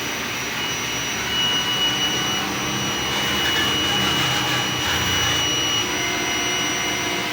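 Sublimation printer running its print head clean cycle, a steady mechanical whir and hum with thin tonal whines, continuous and close for the whole stretch with no talking.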